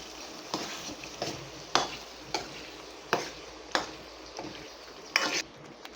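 Tomatoes with coconut cashew paste frying in a pan, a spoon scraping and tapping the pan in regular strokes about once a second over a low sizzle, close and clear, without speech.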